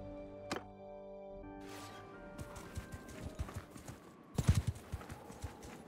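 Horse hooves clip-clopping in the video game Mount & Blade II: Bannerlord, a battle with horse archers against looters; a neigh at first, then a run of faint hoofbeats building into a denser cluster of thuds, quiet overall.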